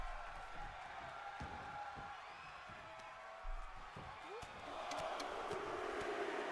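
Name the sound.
wrestling crowd cheering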